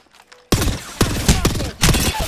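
Bursts of gunfire from Apex Legends, loud and close: a sharp onset after a quiet half second, then repeated rapid volleys with distinct shot transients through the rest of the clip.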